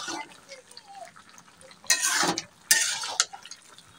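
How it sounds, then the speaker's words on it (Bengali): Spinach and mixed vegetables for a vegetarian curry are stirred in an open pot, giving a few short, soft scraping and wet shuffling bursts over quiet background. "শাকগুলো দেওয়ার পর পুনরায় ঢাকনাটা খুলে একটু নেড়েচেড়ে দেই।"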